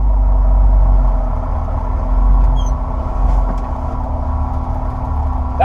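A 1971 GMC Suburban's engine runs steadily in first gear, a loud, close, low rumble that holds an even drone throughout with no voices.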